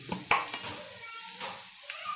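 Gongura leaves with a couple of dried red chillies sizzle in a pan for gongura fry, a soft steady frying hiss broken by brief scraping stirs, close and fairly quiet.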